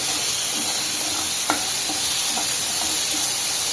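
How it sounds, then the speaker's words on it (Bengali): Steady broadband sizzling of food frying in a pan, with a few soft stirring clicks and scrapes; continuous and fairly close, no voices. "এটা একটু ভাজা হোক"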